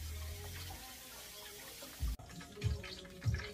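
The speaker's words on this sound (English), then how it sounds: "you want to wash this young chicken really nice" Running water splashes over a young chicken being rinsed clean in a kitchen sink before frying, a steady close gush of tap water broken by a few deeper sloshing thumps as the bird is handled.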